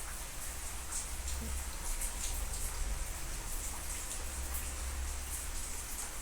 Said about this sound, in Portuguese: Estamos com chuva aqui hoje.